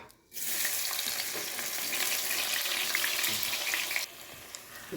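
Sliced onions dropped into hot coconut oil, already tempered with fenugreek, in a pan for roasted-coconut chicken curry: a sudden loud, close sizzle that rises and holds steadily for about four seconds, then eases, with no talk.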